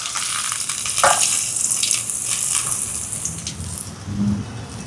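Garlic, green chillies and shallots sizzle steadily in hot oil in a pan, with occasional stirring scrapes and a brief louder clatter, close and continuous throughout.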